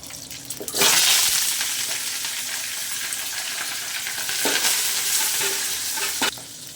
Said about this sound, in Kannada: ಕಡಲೆಬೇಳೆ, ಈರುಳ್ಳಿ, ಹಸಿಮೆಣಸಿನ್ಕಾಯಿ, ಕರಿಬೇವು ಸೇರಿಸ್ಕೊತಾ ಇದ್ದೀನಿ